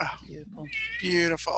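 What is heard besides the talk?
cat meowing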